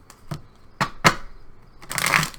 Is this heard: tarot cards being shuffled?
yes